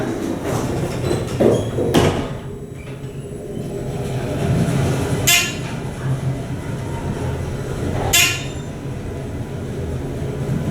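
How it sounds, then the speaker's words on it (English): A Thyssenkrupp traction elevator at a Hampton Inn in St. Louis opens its rear door onto an employee area, giving a sliding rumble with a few sharp mechanical clunks and chimes. "1R is going to open the back door into the employee area"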